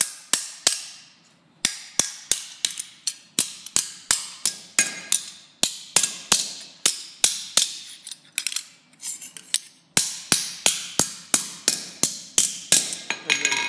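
A blacksmith hammers metal over an anvil horn: close, sharp, ringing strikes repeat in quick regular runs with brief pauses between them.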